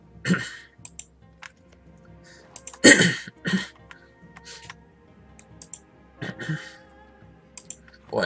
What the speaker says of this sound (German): entschuldigt, dass ich hier dauernd so räusper